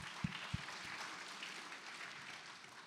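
A crowd at a career pathways panel gives a brief, soft round of applause, distant and diffuse, with a couple of louder thumps near the start.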